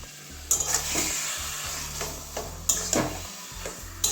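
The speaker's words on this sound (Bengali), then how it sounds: "ভালো করে মিশিয়ে নেবো গরম মশলাটা" A spoon stirs garam masala into a vegetarian taro leaf curry in a pan, with repeated scraping strokes over a soft sizzle, close and clear, with no voices.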